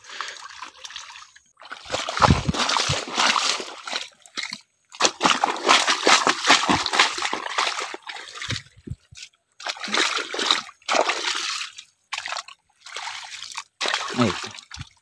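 Water from a pointed gourd field gushes and sloshes through a freshly cut channel toward a pipe leading into a pond, splashing steadily in close, uneven surges with brief pauses.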